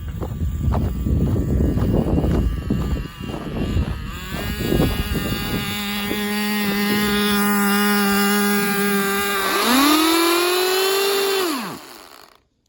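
A small RC snowmobile motor runs outdoors in snow, revving up to a steady high-pitched whine, climbing sharply near the end and then cutting out, loud and close.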